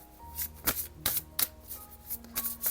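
Tarot and oracle cards being shuffled by hand, a few quick papery riffles and slaps in separate bursts, close and fairly quiet, with no talking.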